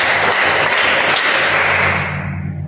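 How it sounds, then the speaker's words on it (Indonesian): Students in a classroom clap their hands together four times, a loud, ragged burst of many slightly unsynchronised claps with a few sharper accents, tapering toward the end over a steady low hum. "Tepuk tangan 4 kali."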